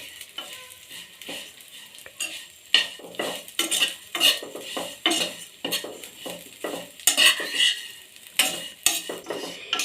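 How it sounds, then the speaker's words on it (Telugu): Vermicelli frying in a pan until golden, a steady sizzle broken by repeated scraping and clinking stirs of a metal spoon against the pan, close and fairly loud. "సేమియాని గోల్డెన్ కలర్ వచ్చేంత వరకు వేయించుకొని ఫ్రై చేసుకోవాలి."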